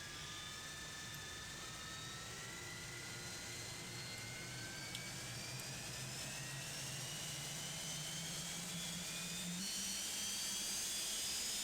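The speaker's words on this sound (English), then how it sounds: "Let's go ahead and get the engines fired up." An airliner jet engine spools up in a flight simulator game, a steady whine rising slowly in pitch over a broad continuous roar, with other jets running nearby and no talk.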